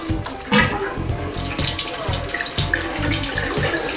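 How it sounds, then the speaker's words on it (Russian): A kitchen water tap runs into a sink, a steady splashing stream with irregular low gurgles and spatters over four seconds, close and fairly loud. "Вот такой кран."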